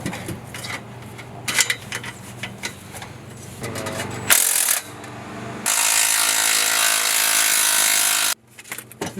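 A ratchet wrench clicks steadily as it tightens the AWE exhaust on an MK7 VW Golf GTI, close and loud, with fast bursts of clicking broken by brief pauses and a sustained stretch of rapid ratcheting near the end.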